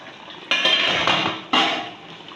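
Two sharp metallic clanks of a lid or spoon against a cooking pot of Nigerian Afang soup, each followed by a brief rattling ring, close and clear with no talk.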